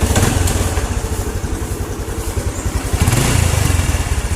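A Honda Revo motorcycle with a weak battery and charging fault starts and idles, a loud, close, steady chugging putter with a slight uneven rise near the end.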